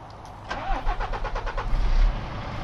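A truck engine in the video game Truck Driver cranks and turns over in a rapid run of pulsing chugs, then settles into a low steady rumble, moderately loud with no talk.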